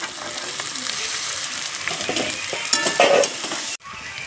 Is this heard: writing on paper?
no